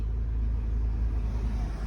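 A Tata Nexon AMT petrol car drives along with a steady, close low engine and road rumble inside the cabin, no voices.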